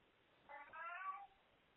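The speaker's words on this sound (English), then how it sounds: "Sorry, that's my cat in the background." A domestic cat gives a single drawn-out meow, short and fairly faint, heard alone against a quiet indoor background.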